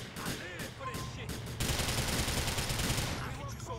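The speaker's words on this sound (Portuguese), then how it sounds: "os caras estão atirando entre eles" Rapid, dense gunfire from a gang shootout in a police video game, overlapping bursts of automatic shots and single cracks that grow heavier midway, with no clear talking.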